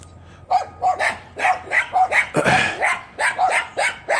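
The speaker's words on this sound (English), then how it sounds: "excuse the neighbor's dogs" Several neighbouring dogs bark repeatedly outside a house, a loud, close and fairly rhythmic series of a dozen or so barks with some overlapping yips.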